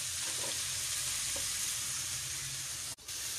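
Chopped onions frying in oil with meat, a continuous soft sizzle with occasional stirring sounds and a brief sharp knock near the end.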